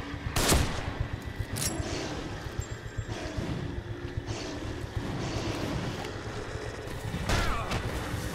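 Gunfire in The Evil Within video game: a few sharp, loud shots stand out against a rumbling, noisy backdrop, with bursts near the start and the end.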